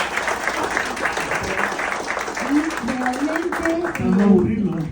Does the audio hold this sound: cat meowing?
no